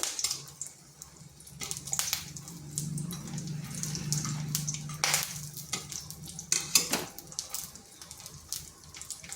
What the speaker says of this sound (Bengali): লাল লাল করে ভেজে নিচ্ছি বড়িগুলোকে। আর হাই ফ্লেমে বড়িগুলো ভাজতে হবে।